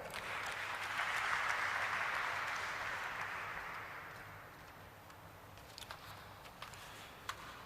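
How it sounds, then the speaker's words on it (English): At a stock listing ceremony, an audience applauds to welcome a senior director, a soft, even patter of clapping that swells briefly and then thins to a few scattered claps. "Can we have a round of applause for him?"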